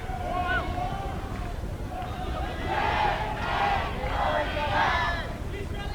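Korean women in the crowd at a men's field hockey Champions Trophy final cheer with high-pitched shouts rising over a loud, steady stadium crowd, with a commentator talking underneath.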